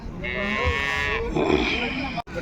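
A Punganur bull lows once at a cattle market, a drawn-out moo of about a second. Faint background noise and murmur from the market follow.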